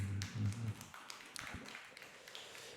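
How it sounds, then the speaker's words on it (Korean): Church congregation applauding at a Wednesday prayer service, a brief burst of claps and taps with low organ or keyboard tones at the start, fading into scattered claps. "주님께 우리 영광의 박수 올리겠습니다."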